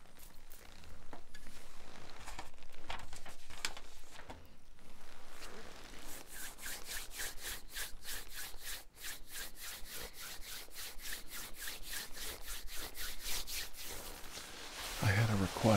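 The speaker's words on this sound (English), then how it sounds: "Some people like the sound of my leather jacket." A leather jacket is handled and rubbed up close in a quiet ASMR session, making soft creaks and scratchy brushing that turns into a steady run of rhythmic rubbing strokes, with faint whispering underneath.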